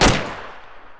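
A single loud gunshot in the video game ArmA 2, sharp crack with a decaying echo tail, alone without talk.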